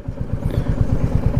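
A motorcycle engine runs on a road trip in Alaska, USA, with a steady low rhythmic throb of quick, even pulses, loud and close and heard without any talking.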